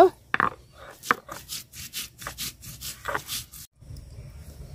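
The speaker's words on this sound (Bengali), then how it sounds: "তো জিরা বাইটটা নিব।" Cumin seeds being ground into a paste on a grinding stone in a home kitchen, a rhythmic series of rough scraping strokes, close and fairly quiet, repeating about twice a second before stopping.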